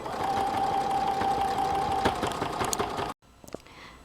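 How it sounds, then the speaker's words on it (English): A sewing machine runs a continuous close stitching whir along the edge of a reusable sanitary pad, about a quarter inch in, then stops abruptly, leaving a few faint clicks. "now I'm going to sew about a 1/4 inch from the edge."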